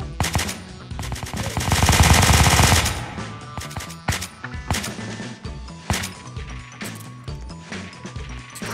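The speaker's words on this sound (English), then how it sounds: "Anyone else who shot might as well own up." Gunshots ring out in a Roblox SCP Foundation game: a loud, rapid burst of automatic fire, followed by scattered sharp single and double shots with gaps of quiet between them.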